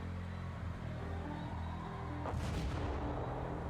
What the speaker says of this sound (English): Oh, there was another fucking bomb?